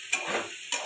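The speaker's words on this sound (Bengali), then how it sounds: "এঁচোড়টা হালকা করে ভেজে নেব" Boiled raw jackfruit (enchor) frying lightly in a kadai gives a soft, continuous sizzle, punctuated by two sharp scrapes of a spatula stirring in the pan, close by with no talk.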